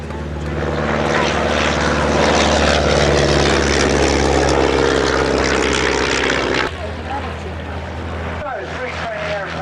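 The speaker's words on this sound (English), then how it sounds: "Three training aeroplanes get airborne." Three propeller training aeroplanes take off at an air display, a loud, sustained engine drone that cuts away and leaves quieter ambient noise with some voices near the end.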